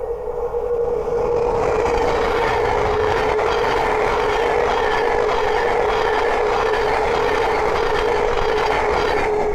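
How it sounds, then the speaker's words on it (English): A Thameslink Class 700 train rolls past close by, a loud, steady rush with a sustained electric whine. "the next train to pass by is a Thameslink 700 from Horsham to Peterborough"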